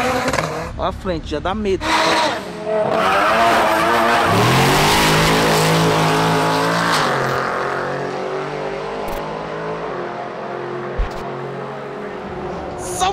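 A sports car roars as it accelerates hard in a street race, with the engine rising loudly, rumbling, and tires scrubbing close by, while people talk excitedly over it.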